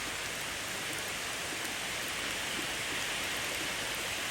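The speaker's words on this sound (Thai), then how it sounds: "ฝนตกหนักมากตอนนี้" Heavy, steady tropical rain pours down in a dense, unbroken hiss with no let-up, loud and close throughout, near a wooden house in a forest.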